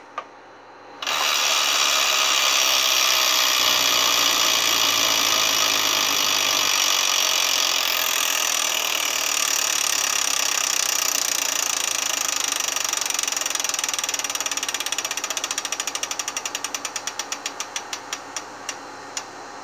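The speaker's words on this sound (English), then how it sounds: "Okay, Red, let's begin this ready to spin the wheel." The wheel on a Wheel of Fortune Deluxe Edition electronic tabletop game whirs loudly and steadily after a quick start, then slows into a run of distinct clicks as it winds down, with no talking.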